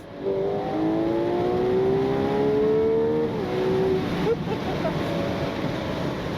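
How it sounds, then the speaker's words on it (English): A 2026 Ferrari 12Cilindri convertible drives with the roof down. Its engine climbs in a steady rising pitch, with a brief dip and shift near the end, all under a constant loud roar of wind buffeting. "the wind buffeting does get rather intense, as the speed does as well"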